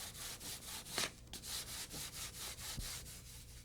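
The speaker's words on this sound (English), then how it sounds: "Use 220 grit sandpaper to sand the plexiglass and the stiffener where they will be bonded together." Plexiglass and a metal stiffener being sanded by hand with 220 grit sandpaper for a Rotorway Exec 162F helicopter build; steady back-and-forth rubbing strokes repeat in a close, even rhythm, with no voices.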